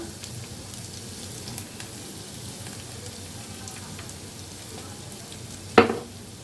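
Spice paste frying in oil in a pan for a sesame katla fish curry, giving a steady soft sizzle throughout with a sharp clatter or splash near the end.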